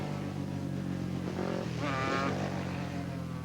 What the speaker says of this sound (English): this is where you learn your motorcycle racing, in very close company on machines